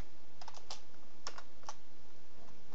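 Worn computer keyboard being typed on in a few short, sparse bursts of crisp key clicks, close up and fairly quiet, with no talking.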